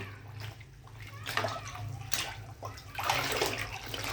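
Cotton dresses are sloshed and wrung in clean water, giving intermittent splashes and trickling close by over a low background hum.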